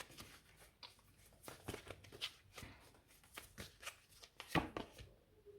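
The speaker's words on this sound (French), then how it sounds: "Je vais remettre une carte avec le 5 de denier, tiens." Tarot cards drawn and set down during a reading, a run of crisp papery slaps and shuffling rustles at close range, irregular and fairly quiet, ending with one sharper snap of a card laid down.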